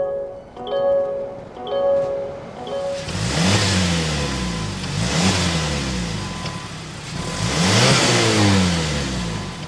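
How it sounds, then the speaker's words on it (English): A turbocharged 2023 Mazda CX-50 Meridian Edition engine fires up and revs in three strong surges, its exhaust note swelling loudly up close after a few quieter mechanical beeps and clicks. "start it up so you can hear that exhaust noise"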